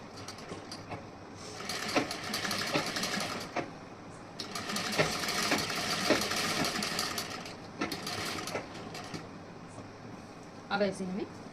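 Electric sewing machine stitching seams on a princess-cut blouse, running in repeated bursts of whirring with short pauses between, close and steady, while someone talks over it throughout.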